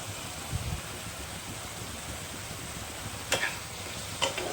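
Tamarind water for a fish roe sour curry bubbling in a pan, a steady soft hiss and simmer close by with a couple of brief sharp clinks partway through.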